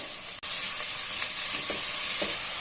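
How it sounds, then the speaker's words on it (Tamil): Vegetables sauté in a cooker, with frozen peas added, giving a steady close sizzle and hiss with faint stirring clatters and no talk. "ரெண்டு நிமிஷம் காய்கறியை போட்டு வதக்கிக்கோங்க"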